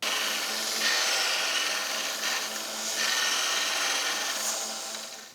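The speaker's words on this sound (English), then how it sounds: "let's clean up some of the burrs here" Steady rasping strokes of a file scraping burrs off a metal fuel cap tool, close and fairly loud, in a continuous back-and-forth rhythm.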